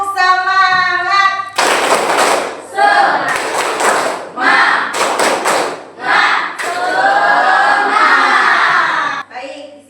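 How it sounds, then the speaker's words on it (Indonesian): A classroom of children doing a rhythmic spirit clap icebreaker, with bursts of loud group clapping and thumping in patterned beats, mixed with shouted chanting and a teacher's voice leading between the bursts. "kita awali dengan ice breaking terlebih dahulu dengan tepukan semangat ya"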